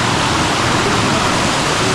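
Waterfall close to a homestay in Idukki, a loud, dense, unbroken roar of rushing water filling the whole short stretch with no voices.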